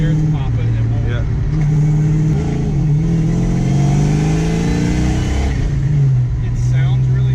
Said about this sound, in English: it runs, it just got some hesitation in the motor